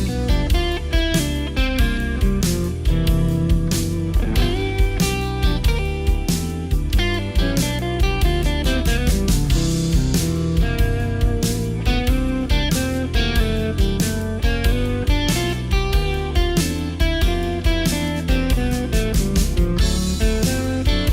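Guitar soloing over a full band backing track with drums, steady and loud throughout, lightly driven tone with rhythmic phrasing and no talking.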